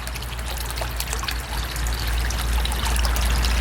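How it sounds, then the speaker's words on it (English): Stress coat water conditioner pours in a steady trickling stream into a large fish tank, a continuous close splashing dribble that grows slightly fuller toward the end, with no talk. "Before I forget, gotta put some stress coat in there."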